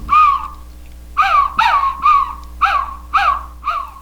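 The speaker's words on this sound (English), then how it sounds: "The wooden owl claims no association with Athena and has a friendlier, less piercing gaze than that statue. It can be used to communicate with other owls." A wooden owl-shaped animal whistle from Mexico is blown in seven close, loud, breathy hoots, one long call followed by a quick run of shorter ones, each sliding in pitch, with nothing else heard.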